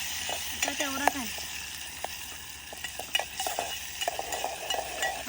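Onion frying in a pan on a wood-fired chulha, a steady faint sizzle running throughout with scattered stirring clinks and scrapes over it.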